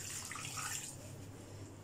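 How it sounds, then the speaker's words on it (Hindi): Glass of water poured into a pressure cooker of goat brain curry, a brief faint splashing gush that fades out within a second or two. "1 गिलास पानी"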